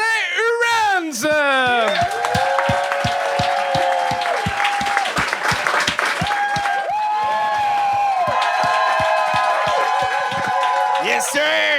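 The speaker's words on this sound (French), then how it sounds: "un tonnerre d'applaudissements pour..." At a Gong Show comedy audition, a studio audience bursts into loud applause and cheering for a comedian. Steady rhythmic clapping runs throughout, mixed with whoops and shouting voices.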